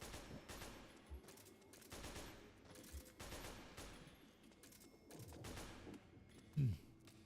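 AK rifle gunfire in the online video game Metal Gear Online, heard as faint, repeated bursts of shots mixed with other game sounds throughout.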